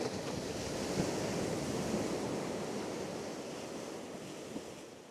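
Ocean surf washes steadily onto a beach at sunrise, a continuous broad hiss of breaking waves with light wind, no voices, fairly distant and even in level.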